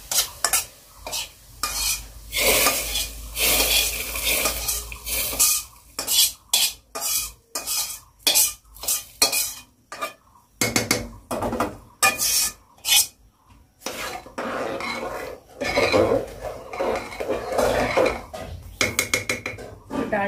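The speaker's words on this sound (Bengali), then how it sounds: "ওই যে পেঁয়াজটা কিন্তু লাল লাল করে ভাজা হয়ে গেছে, আর এখন ডালের মধ্যে দিয়ে দেবো।" Fried onion being stirred into lentils in a cooking pot, with a utensil scraping and clattering against the metal in quick, irregular strokes, close and fairly loud, with brief pauses and a faint sizzle underneath.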